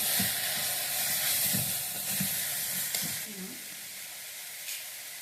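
Foxtail millet pulao ingredients sautéing in a pan, with rock salt added, give a steady sizzling hiss. Soft stirring scrapes are heard throughout, and the sizzle eases a little toward the end.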